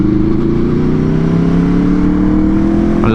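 A new Aprilia RSV4 sport motorcycle pulls away from second gear on a street ride, its loud, steady engine note climbing gradually in pitch throughout with no pause, up close and continuous.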